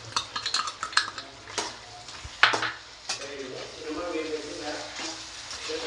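Chicken pieces being stirred with coriander powder and chicken masala in a metal pan for chicken curry, a spoon scraping and clinking in irregular strokes with a faint sizzle beneath, close by, with a voice speaking intermittently.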